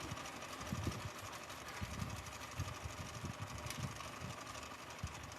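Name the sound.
slow sewing machine running while repairing a dress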